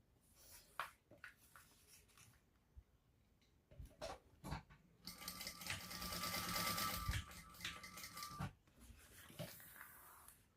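A sewing machine stitches across fabric panels for a lined shoulder bag, starting with a few short bursts and then running in a longer steady whir before slowing, close and fairly loud with no talking.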